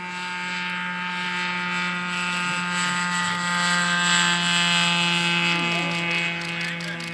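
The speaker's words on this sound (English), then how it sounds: "Widener University starting their takeoff roll." A small model aircraft engine on its takeoff roll at the 2012 SAE Aero Design East competition gives a steady, fairly close, high-pitched buzzing drone that holds an even pitch and loudness throughout.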